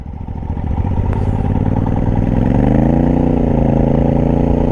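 Motorcycle engine revving hard and steady while riding through the Shyok river in Ladakh, a loud continuous drone rising in pitch as it accelerates, with no talk over it.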